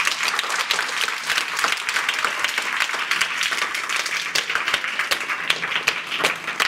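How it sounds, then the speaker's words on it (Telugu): A crowd at a public event claps together, a thick, continuous patter of hands that stays loud and even for several seconds with no speech over it. "వాళ్ళకు, వాళ్ళ పిల్లలకు, వాళ్ళ ఫ్రెండ్స్కు అందరికీ కూడా మనము ఒకసారి గట్టి క్లాప్స్"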